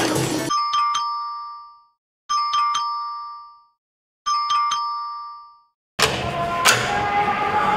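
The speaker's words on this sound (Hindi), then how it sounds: "घंटी पे घंटी बजाई जा रही हो" A doorbell chimes three times in a row, each bright two-tone ding-dong ringing out and fading into silence before the next press. It is followed by a burst of rustling noise and a voice.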